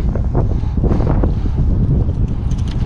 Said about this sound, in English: The wind is picking up here.